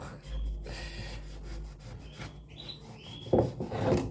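A canary cage being scraped clean: soft, close rubbing and scraping strokes, with a few faint canary chirps and a louder knock near the end.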